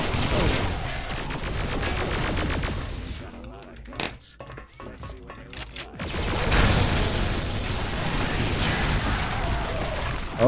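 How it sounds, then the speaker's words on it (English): Side guns firing in the video game Duke Nukem Alien Armageddon: rapid, steady mechanical gunfire throughout, which drops out briefly in the middle before resuming with a crackling clatter, all under faint game sounds. "the enemies, the side guns are always firing away"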